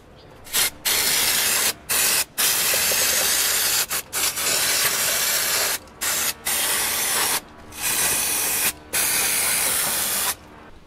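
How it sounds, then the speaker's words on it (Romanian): Several bursts of brake cleaner degreaser aerosol spraying, close and loud, each hissing for about a second with short gaps between, no voices, near the air filter box of a 1.6 HDI 8v engine. "Voi curăța cu un spray degresant pentru frâne"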